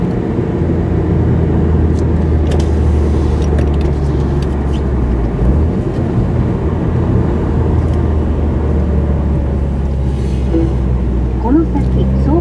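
A Subaru Impreza fitted with a BLITZ SUS POWER mushroom-type air cleaner gives a steady, loud intake roar and drone that holds throughout while the car drives, with faint voices now and then.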